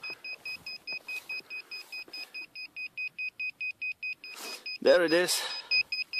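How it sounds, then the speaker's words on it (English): A crashed miniquad's lost-model buzzer beeps in a steady, rapid run of piercing two-tone pulses, about four per second, loud and close, with someone speaking briefly and a brief rustle near the end. "You hear the beeping?"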